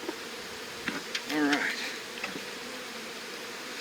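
Honey bees buzzing steadily during a post-winter hive inspection, a close continuous drone with a louder swell of nearby bees midway and a brief spoken word over it.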